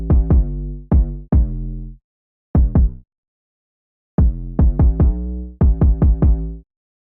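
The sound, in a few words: 808 bass with kick drum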